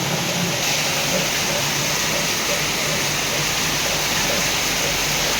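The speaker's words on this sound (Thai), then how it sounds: "นอนฟังเสียงฝนตามเคยจ้ะพี่น้องจ้า" Heavy rain pours steadily and loudly as a dense, unbroken hiss with no pauses.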